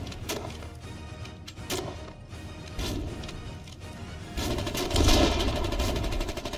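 Gunfire from the war game Foxhole, a dense, continuous stream of rapid shots and crashing impacts mixed with rumbling engine noise, growing louder and heavier toward the end.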